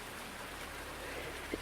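Rain falling in the farming video game Farming Simulator 19, a faint, steady hiss of rainfall with soft patter, alone and brief.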